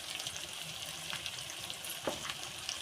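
Ginger-garlic paste going into frying onion masala for chicken biryani, a soft, steady sizzle with a few light stirring clinks and scrapes, faint and close, with no talking.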